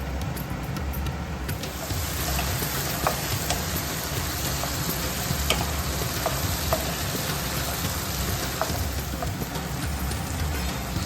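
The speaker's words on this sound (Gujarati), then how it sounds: "હવે આપણે આની અંદર આપણા કાંદા નાખી દઈએ." Chopped onions for potato poha frying in a pan, a steady close sizzling hiss that runs through the whole stretch with faint scattered crackles.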